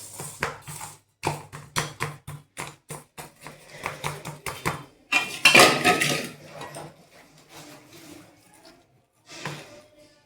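A metal spoon presses and taps the edges of suva pak mixture in a pan, making a run of sharp, close scraping and clinking strokes in an uneven rhythm that gets denser in the middle and then thins to a few soft knocks.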